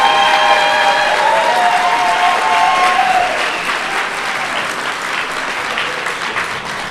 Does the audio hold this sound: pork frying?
no